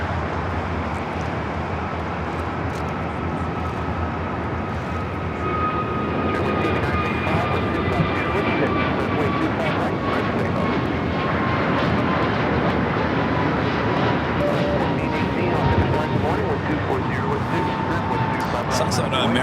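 Jet airliner engines roar steadily at LAX airport, a loud sustained rumble with rising whine tones as a Philippine Airlines 777-300ER waits for takeoff, while someone talks over it.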